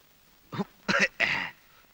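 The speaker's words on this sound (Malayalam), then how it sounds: "എന്താ ഒരു കണിയാന്റെ ചുമ?" In a Malayalam film scene, a man gives a short cough, three quick rough throat-clearing bursts in about a second, close and alone.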